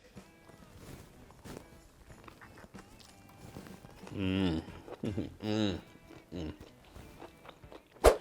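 A crunchy spicy shrimp taco is bitten and chewed up close, giving several loud crisp crunches in bursts after a quieter stretch, with a voice speaking faintly in the background.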